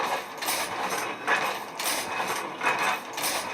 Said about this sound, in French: l'impression des sachets est réalisée au moyen de cette ancienne imprimante Heidelberg